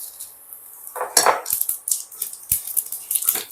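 A bay leaf, two dried red chillies and a spoonful of panch phoron frying in hot oil for a mixed vegetable dish: a steady, hissing crackle punctuated by a few metallic clinks of a spoon against the pan, with no talking.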